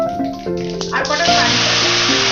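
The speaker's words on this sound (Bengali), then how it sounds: "কালো সর্ষে আর কাঁচা পাতাটা আমি ফোড়ন করে নিলাম।" Black mustard seeds and curry leaves dropped into hot oil and ghee for tempering spicy semolina burst into a loud, steady sizzling hiss partway through, over a bed of background music.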